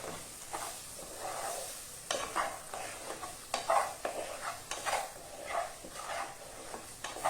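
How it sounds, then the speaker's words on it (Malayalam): Coriander powder and turmeric powder stirred in a hot pan for a chicken curry, a repeated spoon scraping against the pan with bursts of sizzling, close and fairly quiet. "മല്ലിപ്പൊടിയും മഞ്ഞപ്പൊടിയും ഇട്ടതിന് ശേഷം ഒന്ന് ഇളക്കാം"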